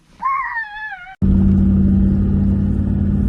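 A car engine droning steadily on a drive near King Ash Bay, a low, constant rumble that starts abruptly after a brief tonal sound and holds loud and close throughout.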